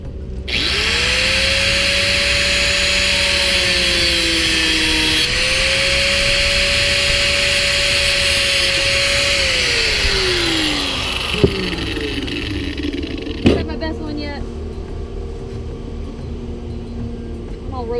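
A power grinder working on a boat window during re-bedding, a loud steady whine that rises and dips in pitch as it bites, then spins down around eleven seconds, with scraping clatter afterward.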